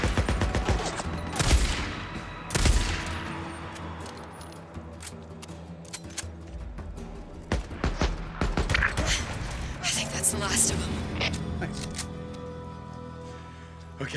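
Rapid, punchy gunfire from a weapon in the video game Days Gone rings out in bursts with sharp metallic cracks and echoing tails, while someone talks between the volleys.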